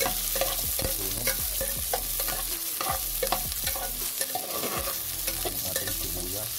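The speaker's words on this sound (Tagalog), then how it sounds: "Ligisan na natin yung sibuyas natin. Haluin lang natin" Chopped onions sauté in a hot pan for a Filipino squid-and-tomato dish, a steady loud sizzle broken by repeated scraping strokes of a spoon stirring through them, close up with no talking.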